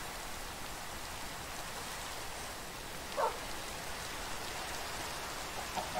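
Rain patters down steadily in Minecraft as an even, continuous hiss, with one faint brief sound rising over it midway; no one speaks.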